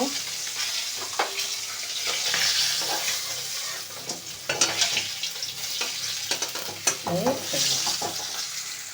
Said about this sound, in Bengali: কড়াইতে তেল দিয়ে দিয়েছি তেলটা গরম হয়ে গেছে এবার একে একে মাছগুলোকে ভেজে নেবো